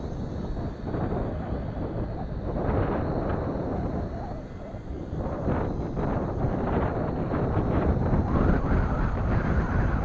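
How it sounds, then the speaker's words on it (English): Loud, steady wind buffets the microphone outdoors during a SYMA X5C drone's first flight, a dense continuous rumble with gusting swells and no clear speech. "we're in the air and it's windy"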